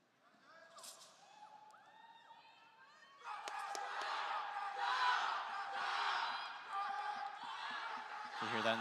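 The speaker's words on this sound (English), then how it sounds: "You got the U.S. team cheering her on." US team cheering for a wushu competitor at the World Wushu Championships, opening with scattered whoops and shouts, then swelling into a loud sustained roar of crowd cheering from about a third of the way in.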